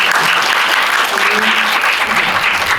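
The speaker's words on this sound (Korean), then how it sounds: "큰 박수 부탁드립니다." Dense, steady applause from a cinema audience at the final guest-visit screening of a Korean film at CGV Yongsan, loud and continuous throughout with faint voices mixed in.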